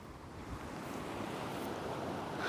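Steady wind rushes past a tent pitched at a wild camp in Glen Etive in the Scottish Highlands, a continuous buffeting roar close to the microphone that swells slightly toward the end.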